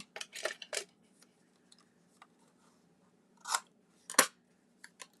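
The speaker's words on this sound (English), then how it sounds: "let's cut that off just a little bit" Scissors snip paper while making a fold-flat treat box, with a few crisp close cuts in short bursts separated by quiet pauses and faint paper handling, with no talking.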